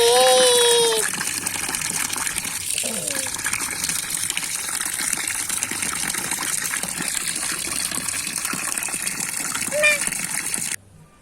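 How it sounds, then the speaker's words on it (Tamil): A shower runs steadily with a continuous close gush and spatter of water for several seconds, cut off abruptly at the end, with a voice briefly audible at the start. "Hello shower, please on."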